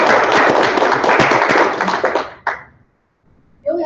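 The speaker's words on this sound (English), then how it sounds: "We can have a round of applause for her." Applause for a student at a student senate meeting, a dense burst of many hands clapping that fades out after about two and a half seconds, then brief quiet before a voice begins.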